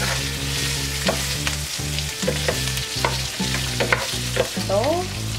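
Boiled pork being stirred in a pan with hoisin sauce, rhythmic scraping strokes over a steady sizzle, close and fairly loud, with a low hum underneath.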